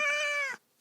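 One clear, drawn-out cat meow plays as a sound effect in a children's story, loud and close, then cuts off abruptly into near silence.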